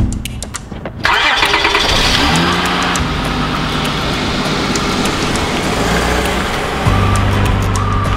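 A car engine cranks and catches after about a second, then settles into a steady, loud idle with a slight rise in revs near the end, with no talking.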